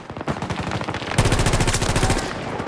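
Close, loud automatic fire from a fast-cycling gun in Battlefield 2042: a choppy burst, then a denser, heavier stream of rapid shots pounding in quick rhythm.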